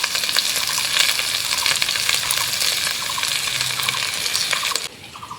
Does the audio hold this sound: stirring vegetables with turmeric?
yes